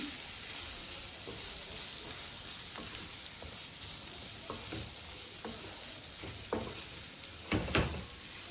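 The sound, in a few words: plantain pieces frying and being stirred in a pan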